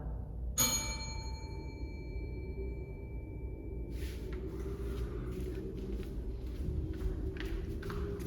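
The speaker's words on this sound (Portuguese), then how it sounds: "Uma badalada." A single bell stroke rings out during a rehearsal performance at a cultural space, a bright struck tone sustaining and slowly fading, followed by scattered taps and footstep-like knocks in a quiet room.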